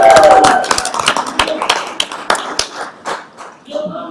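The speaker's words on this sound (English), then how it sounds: "it is natural to just applaud afterwards" A round of hand clapping from a small group at a school board meeting, brisk and close, tapering off after a few seconds with a voice briefly audible at the start.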